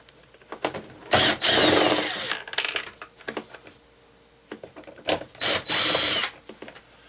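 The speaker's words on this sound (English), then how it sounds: "there's 7mm bolts right in here as well. Let's go ahead and take those off." A power tool whirs in several short bursts while removing 7mm bolts from a 2021 Chevy Malibu door panel, with small clicks and metallic taps between the bursts and no talking.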